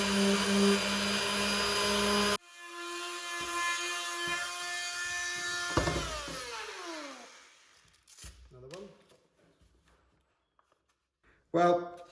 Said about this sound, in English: now I'm just working on sanding the middle part.